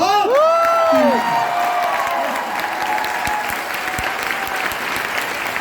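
A loud burst of clapping and cheering erupts from a crowd at a business leadership success event, with whoops and shouts at the start, then sustained applause that slowly eases.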